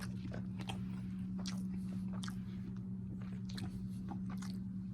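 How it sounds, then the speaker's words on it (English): Bites and chewing on a fully cooked sandwich like a patty melt, soft squishy mouth sounds repeating close up over a steady low hum, with no talking. "I'm about to show y'all me taking a little bite"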